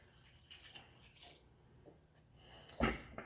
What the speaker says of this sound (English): I'm going to pour in my 2 1/2 cups of milk